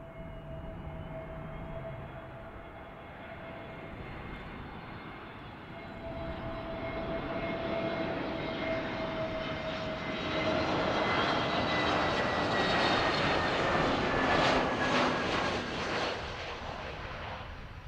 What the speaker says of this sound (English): runway 28 cleared for takeoff